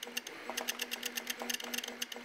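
A homemade 3D printer, converted to work as a 2D dot-matrix printer, taps out dots line by line. It makes a fast, busy run of small clicks over a low motor hum, quiet and steady.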